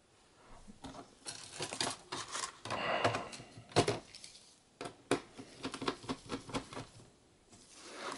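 A bottom plate being fitted back onto a Toshiba Tecra W50 laptop, heard as a series of close, light plastic clicks, taps and rustles in irregular bursts, with brief quiet gaps between handling sounds.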